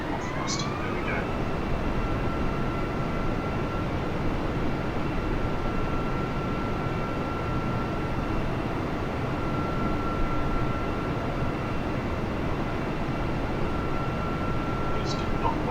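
A steady, loud, even roar of airplane engine thrust in Flight Simulator 2020, continuous and unchanging with a faint whine and a couple of brief clicks.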